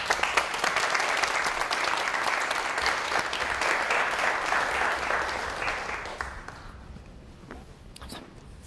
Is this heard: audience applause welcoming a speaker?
yes